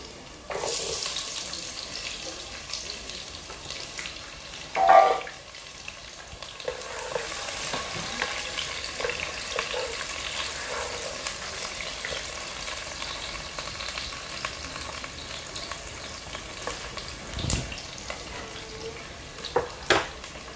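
Two large chopped onions fry in a pan, a steady soft sizzle with occasional stirring clinks and a louder splash-like burst near the start, no voices.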